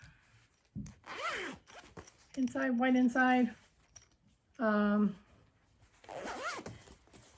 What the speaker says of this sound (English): and just a zipper